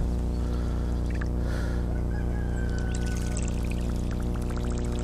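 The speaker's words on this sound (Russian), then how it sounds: "Поппер булькает." A popper fishing lure gurgling and splashing as it is worked across the water surface during a lure test, with soft wet bubbling over a steady, loud low hum of background noise.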